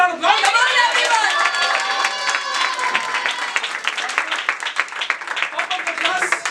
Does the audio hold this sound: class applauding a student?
yes